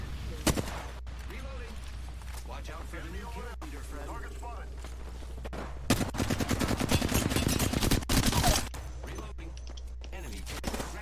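Bursts of rapid gunfire crackle in a shooter video game, scattered shots early then a dense sustained volley in the middle, loud and close, with a player talking intermittently.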